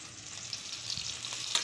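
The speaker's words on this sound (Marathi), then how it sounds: "तेल गरम करून जिरे मोहरी फोडणी घेऊन त्यात टमाटर टाकलेलं आहे। टमाटर चांगला परतून घ्यायचं आहे।" Tomatoes sauté in hot oil over a cumin and mustard seed tempering for a cluster bean (gavar) dish, giving a steady close sizzle with a few soft stirring scrapes.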